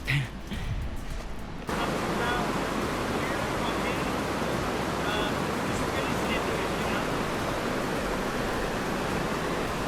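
Fast-flowing creek water at a waist-deep crossing on a mountain trail, a loud steady rushing roar close by that fills the whole clip, with brief voices near the start.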